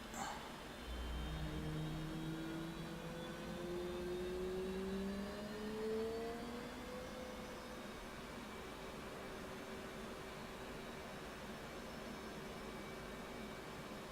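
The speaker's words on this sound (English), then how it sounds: "Okay, the engine's coming up again." An F/A-18 jet engine in the DCS World flight simulator spools up, a steady turbine whine rising slowly in pitch over a constant roar, continuous and fairly loud with no talk.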